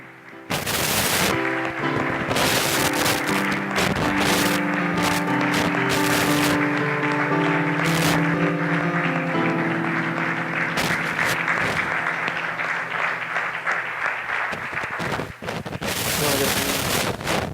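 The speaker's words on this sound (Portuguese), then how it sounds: "Igreja, você pode aplaudir o nosso Deus." Church congregation applauding during a worship service, sustained clapping with music playing underneath, steady and loud from start to finish, with a brief dip near the end.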